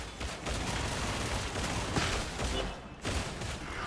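Dense, continuous volleys of suppressing gunfire from a rifle-armed shooter, with sustained overlapping shots through the whole span and one brief dip near the end.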